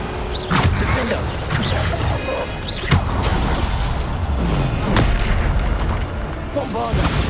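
Bombarda spell explosions go off in the video game Hogwarts Legacy, loud booming blasts with whooshes and shattering debris, repeated through dense combat noise while a voice calls out spells.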